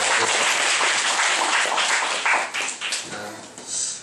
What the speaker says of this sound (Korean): 오늘 임마누엘 찬양께 다시 한번 뜨겁게 박수드리겠습니다